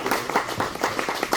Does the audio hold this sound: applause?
yes